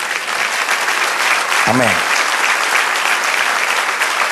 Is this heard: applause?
yes